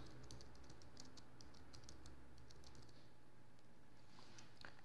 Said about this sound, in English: In the search bar, type Photoshop Elements.